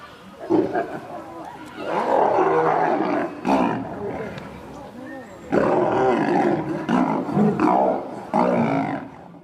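A hungry lioness gives several deep, loud roars in bursts, with short pauses between them.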